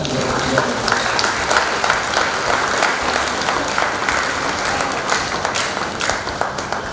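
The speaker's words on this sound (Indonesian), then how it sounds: "Berikan rasa syukur kita dengan memberikan tepuk tangan yang meriah." Hearty, continuous applause from the crowd at a graduation ceremony for the seventh class of SMA Sulthon Aulia Boarding School; many hands clap loudly and close by, with individual claps standing out through the full texture.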